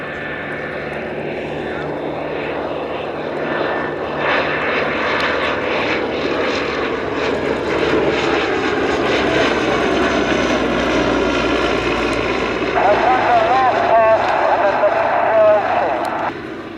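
A Westland Lysander propeller aircraft flies during the Shuttleworth Festival of Flight air display, its engine droning steadily and loudly throughout beneath a man's public-address commentary.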